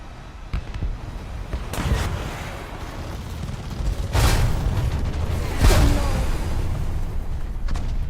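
An explosion from the player's own bomb detonating too close to the ground in War Thunder, with loud booming bursts near the middle of the clip over continuous aircraft and battle rumble.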